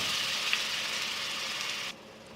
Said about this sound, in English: few curry leaves and ginger garlic paste, and fry it for a while